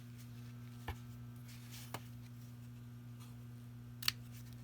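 Scissors trimming a strip of card paper for a fold card, heard as three brief, quiet snips spaced about a second apart, the last one sharper, over a steady low hum.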